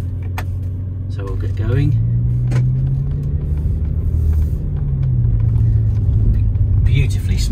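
A 2007 Bentley Continental GT 6.0 pulls away up the road, its engine rising into a deep, smooth rumble heard from inside the cabin, with someone talking briefly over it.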